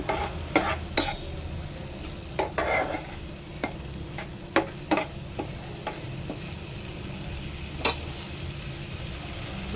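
Liver pieces and garam masala stirred in a curry pan, with sharp spatula clicks and scrapes at irregular intervals over a low background sizzle, close and with no one talking.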